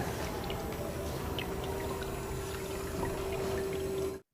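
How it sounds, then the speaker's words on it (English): Water pumped by an Arduino-controlled pump flows through a transparent pipe into a container for a sea water purifier, a steady close trickle and pour with a constant motor hum running underneath until it cuts off at the end. "Now this container is filling up, as we can see through this transparent pipe"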